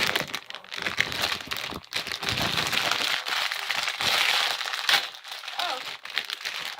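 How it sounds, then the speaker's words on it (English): Plastic packaging crinkles and crackles loudly and continuously at close range as a soft squishy toy is pulled free by hand, with irregular rustles and crunches and brief pauses. "I'm gonna get it out of the packaging."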